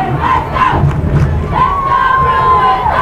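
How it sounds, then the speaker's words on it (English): A stadium crowd cheers and chants loudly during the fourth quarter of a Mighty Mites youth football championship game, a dense, continuous roar of many voices close by. "The crowd gets into it."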